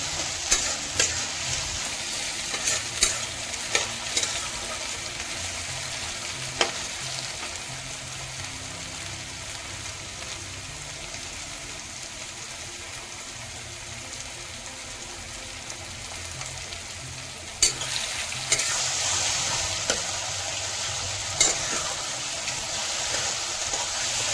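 Onion and green chili frying in oil in a pan, a steady moderate sizzle with a rain-like patter, punctuated by occasional clicks and scrapes of a spatula stirring, with no voices.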